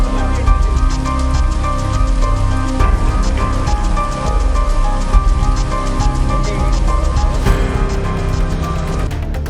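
Heavy rain pours steadily on a rural area near Vadamalai Samudram by Vikramasingapuram during a thunderstorm, a dense continuous hiss that stays loud throughout with no talk.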